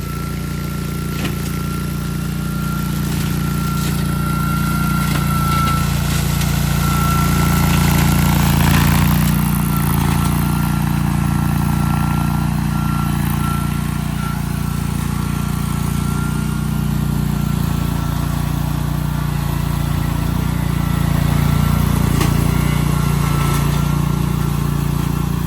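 Gravely RC OVIS 40 remote-controlled brush and slope mower cutting through tall growth, its engine droning steadily and loudly without bogging, with a slight swell in load midway.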